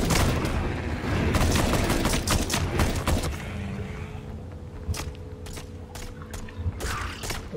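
Gunfire in a Minecraft Nether-themed game: a dense run of sharp, close shots and clattering mechanical clanks, thinning into scattered single cracks over a low steady hum.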